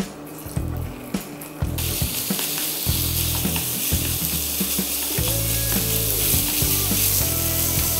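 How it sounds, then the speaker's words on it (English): Ground pork stir-frying in about a tablespoon of vegetable oil, a steady loud sizzle with repeated scraping and clattering of a utensil against the pan throughout. "I'm actually going to stir fry the ground pork"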